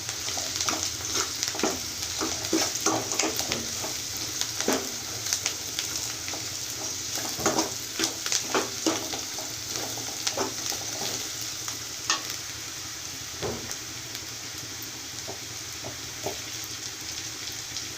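Cumin, garlic and chili paste fry and sizzle steadily in a pan for a long stretch, with frequent scraping and stirring clicks over a constant hiss.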